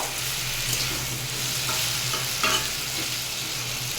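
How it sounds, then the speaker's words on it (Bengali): Steady sizzling of cumin and chili frying in hot oil, a continuous crackle with a low hum underneath and occasional brief stirring scrapes. "এটাকে একটু ভাজবো, অল্প সময় ধরে ভেজে নেব।"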